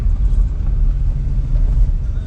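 A car drives over a bumpy village road full of potholes, its low engine rumble and jolting body noise continuous and close.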